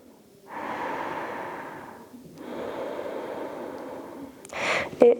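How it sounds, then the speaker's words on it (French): Slow Ujjayi breathing during a yoga abdominal-strengthening session: two long, hissing, throat-constricted breaths, each lasting about two seconds, close and steady, followed by a sharper breath near the end. "Gardez seulement la respiration Ujjayi."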